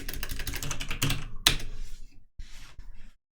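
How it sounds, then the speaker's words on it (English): Rapid typing on a slightly sideways-placed computer keyboard while writing C++ code, a close run of key clicks with a couple of sharper strokes, then sparse taps trailing into silence. "My keyboard's in a slightly to the side position today, and my mistyping's happening often."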